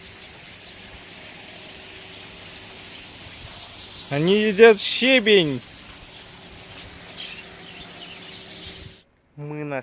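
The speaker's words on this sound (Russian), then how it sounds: "Куча попугаев." A flock of parrots on an island near Nha Trang, Vietnam, breaks into a burst of loud, harsh overlapping calls for about a second, over a faint steady background hum, with a voice speaking near the end.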